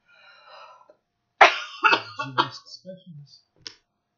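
One loud, harsh cough from sinus drainage bursts out, followed by throaty rasping and a short hack, up close in a quiet room.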